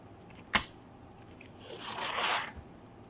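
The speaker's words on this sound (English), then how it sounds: "what I'm going to do here is put some tape so I have a big border" Masking tape pulled from the roll and pressed down to mark a wide border on a round 15-inch craft piece, a sharp rip followed by a longer soft peeling and smoothing scrape, close and quiet.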